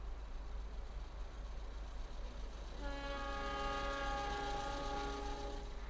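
Simulated train in a railway video game pulling into its final station, a steady rumble giving way to a sustained multi-tone horn chord that sounds loudly from about three seconds to the end.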